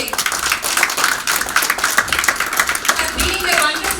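An audience claps at a launch event, a steady patter of many hands lasting several seconds with a voice speaking over it.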